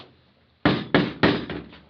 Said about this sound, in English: that is the sound of blow-molded resin